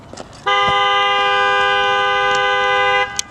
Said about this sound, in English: like this ear-splitting honk